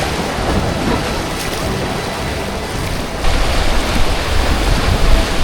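Loud, roaring whitewater at Surfer's Wave, a rapid on the Nantahala River, a dense continuous rush that swells louder partway through, heard up close from a raft.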